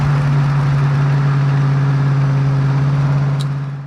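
A 1965 Ford Mustang GT's engine drones steadily at part throttle during a drive, a loud, even low hum that holds constant.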